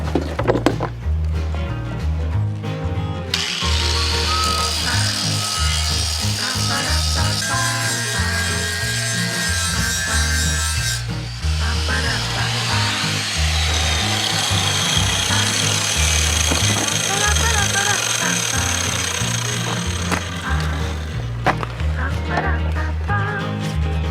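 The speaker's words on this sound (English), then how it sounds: "Okay, all ready to do some grinding now." Angle grinder working over a welded steel sculpture piece, a loud, steady abrasive whine that runs almost unbroken and shifts pitch midway as the disc bites and eases.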